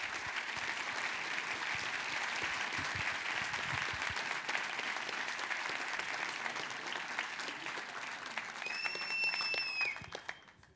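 Audience at the Brazil Conference at Harvard & MIT 2018 applauds to welcome speakers onstage, a sustained, even wash of clapping from a large crowd that tapers off near the end, with a brief whistle-like tone toward the close.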